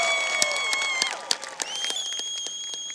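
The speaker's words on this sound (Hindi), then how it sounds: "उसके लिए पहले तो जोरदार तालियां बना दीजिए।" Crowd applause at the Isha Mahashivratri 2017 night celebration near the Adiyogi statue, scattered sharp claps over a steady wash of cheering and music tones, moderately loud and continuous.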